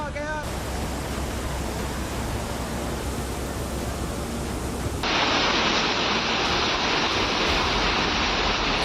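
The flooded Beas River rushes past in a continuous, dense roar, loud and close, with the steady torrent shifting to a brighter, harsher wash partway through.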